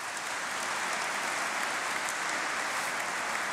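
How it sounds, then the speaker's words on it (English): Family and friends at a university graduation congregation ceremony clap steadily in a large hall, a dense, even wash of applause that carries on without pause and sounds moderately distant. "let's give a huge round of applause to everybody who's made today possible."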